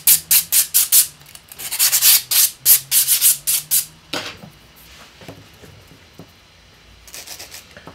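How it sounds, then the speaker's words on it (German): Gel nails filed with a half-moon nail file of 100/180 grit, a series of quick rhythmic rasping strokes, loud and close, slowing into lighter, sparser scratches. "Benutzen werde ich dabei diese Halbmondfeilen."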